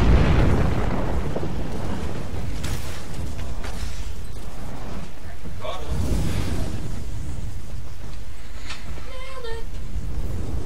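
Trebuchet siege fire pounding a forward camp during a PvP battle in Elder Scrolls Online, heard as heavy booming impacts and rumbling bursts that keep coming over a constant roar of battle noise.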